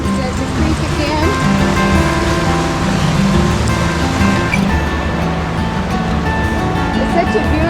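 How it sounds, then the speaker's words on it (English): Water of Crazy Woman Creek rushes steadily through the canyon in a constant broadband wash, with light rain falling and people talking faintly over it throughout. "There's the creek again."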